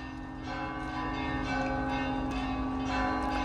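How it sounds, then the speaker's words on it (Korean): Church bells ring out in St. Petersburg, a sustained, resonant peal with overlapping strikes and a long humming tone, loud and steady throughout with no talking. "네, 종소리가 굉장히 현장감 있네요."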